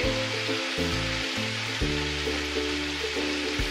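Asafoetida drops into hot oil in a home kitchen while cooking besan dal, giving a steady broadband sizzle. Sustained low tonal hum runs underneath throughout.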